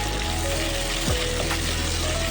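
Small diced potatoes fry with onions and spices in a pan for a potato bhaji, making a loud, steady crackling sizzle with an occasional stir scraping through it.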